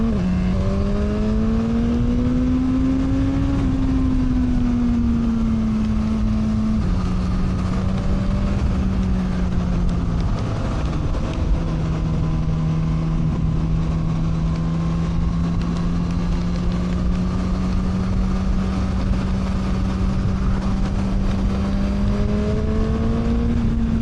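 A Suzuki GSX-S1000 motorcycle engine drones loud and close as the rider rolls on the throttle out of corners, its pitch rising and dipping with each gear and throttle change over steady wind rush.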